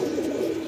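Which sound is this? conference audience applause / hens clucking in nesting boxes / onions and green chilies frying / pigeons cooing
pigeons cooing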